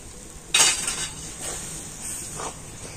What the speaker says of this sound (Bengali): তো ময়দা আর সুজিটা কিন্তু তালের পালকের সাথে খুব ভালো করে নাড়াচাড়া করে নেব।